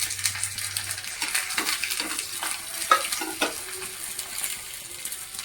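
Cumin, mustard seeds, garlic and dried red chillies sizzle in hot oil for a dal tempering, a steady close crackle with a spoon scraping and stirring the pan.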